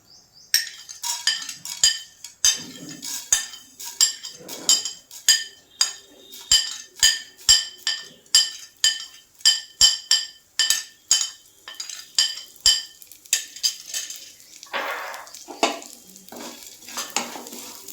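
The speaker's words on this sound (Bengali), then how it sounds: "এই মশলাগুলো আমি এবার ভেজে নেবো" Whole spices frying in hot ghee in a pan for a Bengali ghee katla fish dish, stirred with a metal spoon that clinks rhythmically against the pan over a faint sizzle, close and steady.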